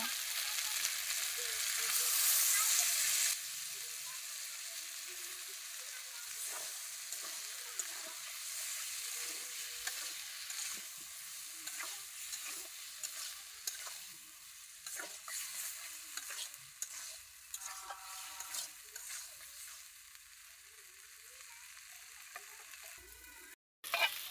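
Potatoes frying and being stirred in a pan, with a steady close sizzle and hiss and repeated scraping of the spoon against the pan over a long stretch, loud early, then slightly softer.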